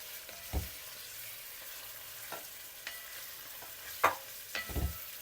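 Pieces of gosht are fried in a pot for a shaljam palak curry and stirred now and then. A faint steady sizzle carries underneath a few soft scraping clunks, with no voices.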